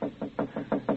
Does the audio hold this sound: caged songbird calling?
no